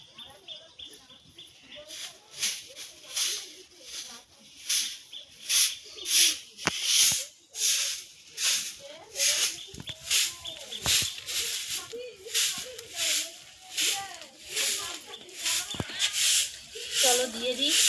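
A broom sweeps a courtyard sprinkled with water to keep down dust, making rhythmic, evenly spaced brushing strokes up close, with faint chirps in the background.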